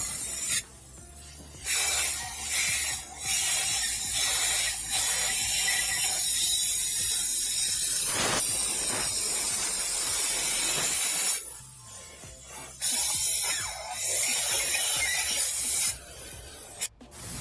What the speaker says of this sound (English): put some spray foam insulation underneath the bottom of this thing just to kind of seal the wood off